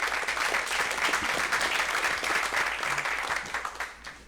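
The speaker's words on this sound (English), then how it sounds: "So give them a round of applause." An audience gives sustained applause to two speakers at a real estate event on private money, loud and steady before tapering off near the end.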